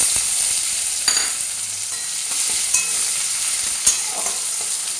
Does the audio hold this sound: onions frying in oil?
yes